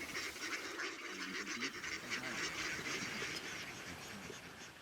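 Ducks quack on a farm as a dense, continuous, faint flock chorus of overlapping calls that holds steady throughout.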